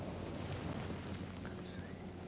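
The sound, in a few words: strong wind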